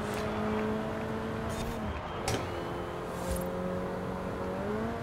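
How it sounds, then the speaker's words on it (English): A car in Forza Horizon 4 revs and shifts aggressively through gears, its engine tone climbing then dropping at each shift, steady and moderately loud with a faint voice underneath. "Sorry if you hear me aggressively shifting through gears."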